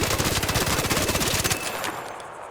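Rapid automatic gunfire from a weapon fitted with a vertical grip in the video game ARC Raiders, a dense, loud burst of shots that stops partway through, leaving a fading tail.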